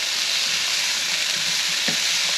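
Mushrooms and peppers sauté in a hot pan for beef lo mein, giving a steady, close hissing sizzle with faint stirring scrapes and one brief louder crackle near the end, no voices.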